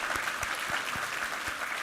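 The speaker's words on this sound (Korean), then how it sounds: "우리 하나님께 영광의 박수 올려드리겠습니다" A church congregation claps together during a Sunday service, a short burst of brisk, fairly soft applause with the individual claps audible in a quick rhythm.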